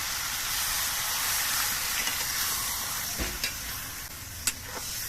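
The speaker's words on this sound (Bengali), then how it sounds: "এবার এর মধ্যে আমি অল্প করে জল দিচ্ছি" Water goes into a hot pan of fried ginger paste, raising a broad steady hiss of sizzling steam with a few soft knocks and clinks near the end, no voices.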